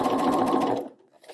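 Sewing machine stitching a narrow hem with a hemmer foot, a steady close whir running for most of a second before stopping abruptly, leaving near silence.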